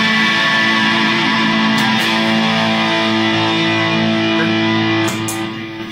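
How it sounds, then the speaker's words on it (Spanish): Electric guitar played through a distortion pedal on a multi-effects pedalboard rings out as one loud, sustained, saturated chord with dense buzzing harmonics, alone and without talk, then fades slightly at the end. "Yo aprieto un pedal y la guitarra ya no suena limpia"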